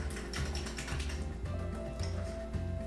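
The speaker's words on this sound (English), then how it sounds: "Whisk that around until your starter and your eggs are pretty creamy and well mixed." Sourdough starter and eggs being whisked in a bowl, a steady run of quick rattling, clicking strokes against the bowl that carries on throughout, close and fairly loud.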